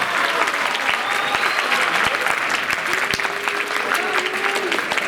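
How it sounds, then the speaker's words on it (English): An audience at a Black History program gives a sustained round of applause, steady and full for the whole stretch, with a few faint whistles or tones rising above the clapping. "give another big round of applause"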